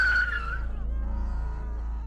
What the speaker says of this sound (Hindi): इस चीख पुकार के बीच विशाल की गाड़ी तेजी से अशोक वृक्ष के पास आकर रुकी